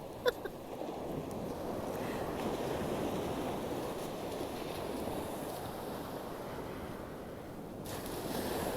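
Steady roar of winter ocean surf and wind as waves hit a sea wall, continuous and fairly loud, with a couple of brief sharp knocks near the start and no talking.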